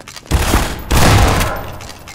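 Shotgun fire in the video game Riot Act comes as two heavy booming blasts in quick succession, loud and close, each trailing into a broad rumbling roar.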